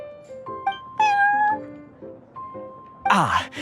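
A cat in a Genshin Impact cutscene at the Cat's Tail meows several times, short tonal mews followed by a louder, rising then falling meow near the end, clear and close against a quiet background.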